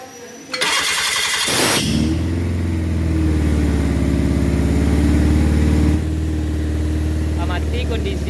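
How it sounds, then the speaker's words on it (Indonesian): A car engine with a DLI ignition system cranks and catches with a loud burst, then settles into a steady, close idle while warming up, running on evenly for several seconds. "selanjutnya panaskan engine sampai temperatur kerja"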